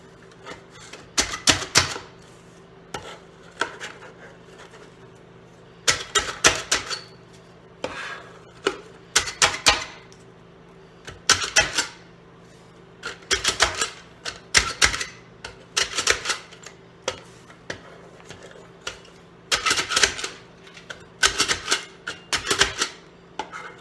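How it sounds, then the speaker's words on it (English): Bursts of rapid chopping clatter from a food chopper repeat in short rhythmic runs, separated by brief pauses, over a steady low hum. "I'm just going to take my little chopper here."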